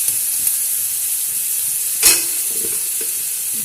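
Ginger and garlic paste sizzles in hot oil with a steady, bright hiss, while one sharp scrape of a stirring utensil rises near the middle and soft taps follow, all without speech.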